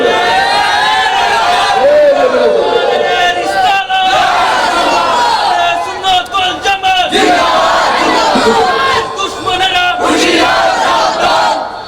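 A large crowd at a Bengali Eid-e-Milad-un-Nabi religious gathering shouts the takbir chant together, loud and sustained over nearly twelve seconds, with a few brief dips between surging collective shouts.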